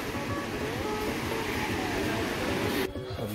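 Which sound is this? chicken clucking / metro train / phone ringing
metro train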